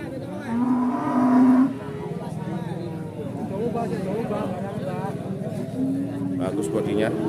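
Limousin cattle and other young beef cattle at a livestock market, loud close moos, a long one early and a shorter one near the end, over a steady market murmur with people talking throughout.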